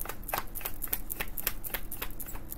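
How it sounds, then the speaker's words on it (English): Tarot cards being shuffled by hand: a quick run of crisp flicks and riffles, close and fairly soft, repeating at an uneven pace with no talking. "I'm gonna have to not rough shuffle this."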